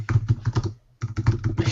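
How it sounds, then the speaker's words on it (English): Rapid typing on a computer keyboard, close and clear, a burst of quick keystrokes, a brief pause, then another flurry of clicks. "Why are you typing?"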